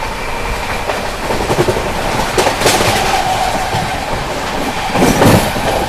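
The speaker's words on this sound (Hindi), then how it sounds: "पंजाब मेल ओवरटेक करने जा रही है दादर से चलकर हजरत निजामुद्दीन की ओर जाने वाली AC स्पेशल को।" Punjab Mail express train overtaking an AC special train bound from Dadar to Hazrat Nizamuddin, a steady loud roar of passing rail cars with rhythmic wheel clatter and bursts of clacking over joints.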